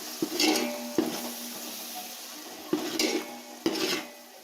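Mushroom biryani masala being stirred in a pot, with a soft sizzle underneath and about five separate clanks and scrapes of a spoon against the metal, spaced irregularly.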